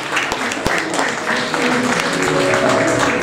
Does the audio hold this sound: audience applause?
yes